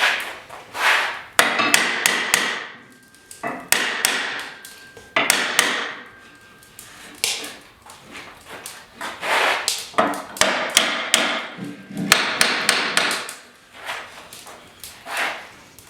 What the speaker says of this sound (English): Just do any adjusting with a hammer,